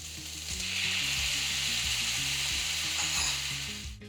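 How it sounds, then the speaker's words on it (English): Loud, close sizzling and frying in a hot pan, a continuous crackling hiss over low musical tones, with no talking; pork caramelizing with brown sugar and fish sauce for Vietnamese sticky pork. "Let everything sizzle and watch as the sauce thickens and clings to the pork."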